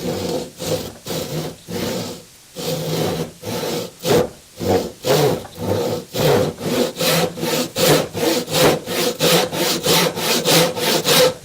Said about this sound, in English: this is the best way that I know to make a square cut with a handsaw